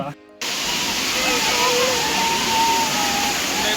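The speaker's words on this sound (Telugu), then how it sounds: "వాటర్ ఫాల్ సౌండ్ అయితే ఇక్కడ దాకా వస్తుంది" Steady broadband rushing water of a waterfall in the Araku valley roars continuously after a brief quiet moment at the start, loud and close, with no voices.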